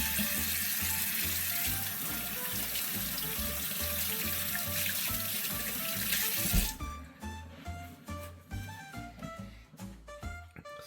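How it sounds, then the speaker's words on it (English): Tap water runs steadily into a kitchen sink while hands are washed under it, a broadband splashing rush that cuts off after about six seconds, leaving quieter clinks and handling sounds. "I need to wash my hands real quick because they're both dirty"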